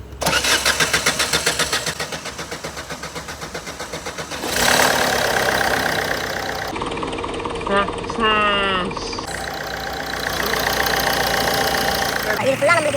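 A car engine cranks and turns over, then settles into a steady rumbling idle, loud and close, with brief shifts in tone along the way.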